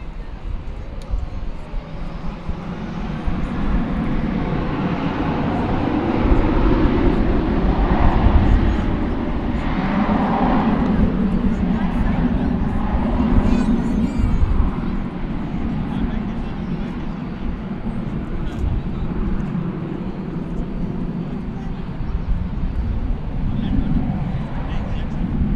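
American Airlines jet taking off at DFW Airport, a steady distant engine roar swelling and holding at moderate level, with radio chatter and a voice talking over it.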